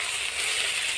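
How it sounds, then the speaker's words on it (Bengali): Fish frying in oil in a kadai gives off a brief, steady crackling sizzle, close and fairly loud. "মাছগুলো আমার ভাজা হয়ে গেছে"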